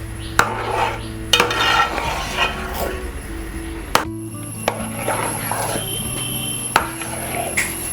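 Ragi halwa with ghee being stirred in a pan on a gas stove: repeated scraping and knocking of a spoon against the pan, some sharp clinks, a steady hum underneath, close and fairly loud, with no clear talk.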